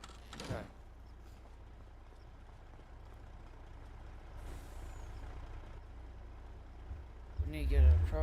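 Heavy truck in Farming Simulator 25 idling under a low engine drone, with sharp hissing air-brake releases near the start, midway and at the end, where a louder rumble swells in; no talking.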